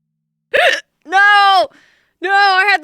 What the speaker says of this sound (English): Oh no, I just hiccuped.